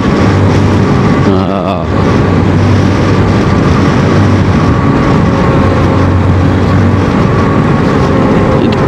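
A Honda CRF motorcycle roars steadily while riding, its close, loud engine drone constant throughout, with a brief wavering change in tone early on.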